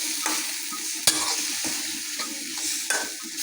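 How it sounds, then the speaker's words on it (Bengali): Rupchanda pomfret fish fry in spiced masala, a close, continuous crackling sizzle with a few sharp utensil knocks and stirs against the pan, and no talking. "তাই আমি আজকে রূপচাঁদা মাছ ভুনতেছি।"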